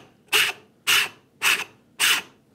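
Coarse side of a rasp filing a wooden router plane body, four regular rough strokes, each about half a second with short pauses between, close and crisp with no talking.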